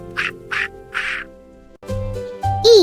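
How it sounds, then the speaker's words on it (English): A duck quacks, three evenly spaced nasal calls up close, followed by a brighter, more tonal cartoonish squawk-like sound at the end. "D for duck."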